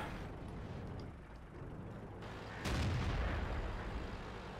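Tank cannon fire and a penetrating hit in World of Tanks, a sharp loud boom with a heavy low rumble midway through, over continuous game engine and battle noise.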